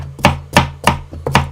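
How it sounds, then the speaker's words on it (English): A knife chops carrots for Estonian stew on a cutting board, with four sharp, evenly spaced chops close by and no talking. "Doing some carrot chopping real quick, you guys."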